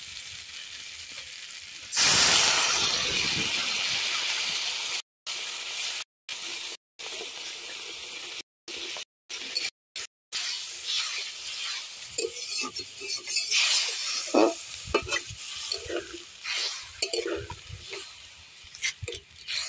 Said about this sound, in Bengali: এবার এর মধ্যে আমি অল্প অল্প করে জল দিতে থাকবো।